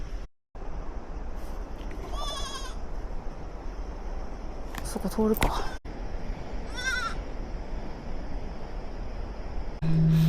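Goats bleat in short wavering calls on a road in Nepal, a couple of bursts standing out over steady outdoor background noise while a person speaks briefly nearby.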